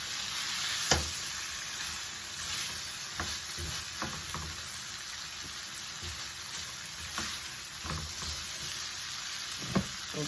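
Beef stir-frying in a hot pan, a steady close sizzle with occasional sharp spatula scrapes and clicks against the pan.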